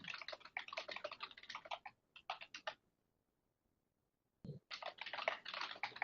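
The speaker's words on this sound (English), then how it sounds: "Who's typing so loudly?" Loud, rapid keyboard typing during a conference call, clattering in dense bursts, pausing into near silence for a couple of seconds, then resuming just as hard.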